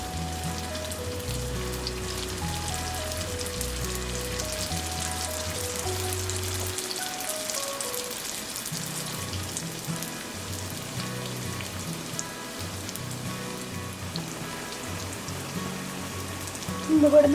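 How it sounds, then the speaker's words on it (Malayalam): Meat rolls frying in hot oil over a medium flame until golden brown, producing a steady, even crackling sizzle like light rain that runs throughout. Soft background music plays beneath it. "ഒരു ഗോൾഡൻ ബ്രൗൺ ആവുന്നത് വരെ നമുക്ക് തിരിച്ച് മറിച്ച് വിട്ട് മൊരിച്ചെടുക്കാം."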